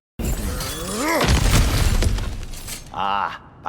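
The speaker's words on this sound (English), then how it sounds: "back to smashing through things for fun and profit" Cracked ground smashed open in God of War Ragnarök, a loud crashing shatter of rock and debris that rumbles on for a couple of seconds, with a voice talking over and after it.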